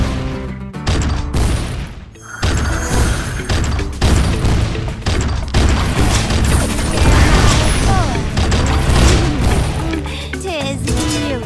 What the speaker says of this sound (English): Explosions! I like the explosions!